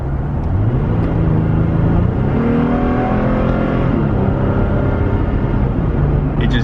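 A 2021 Toyota Tacoma accelerates hard from 45 mph as its engine note climbs steadily in pitch, holds, then drops at a gear shift and keeps pulling. It is loud and continuous from inside the cab.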